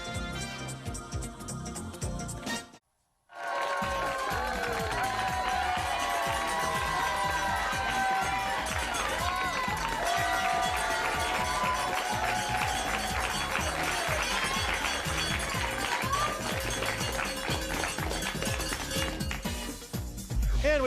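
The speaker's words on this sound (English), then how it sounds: "They're all cheering for their favorite teams, and it's a great game." A studio audience at the It's Academic quiz show cheers, claps and shouts continuously under bright music, starting after a brief silent gap, loud and dense throughout.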